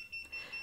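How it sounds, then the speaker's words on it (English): Radiation detector alarm sounding while testing a radioactive pen, a faint high-pitched electronic beep repeating in short even pulses about three times over a quiet background. "Let's set off the alarm."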